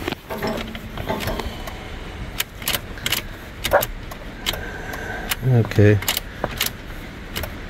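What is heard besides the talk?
keys turning in 2013 Ford F150 ignition, engine not starting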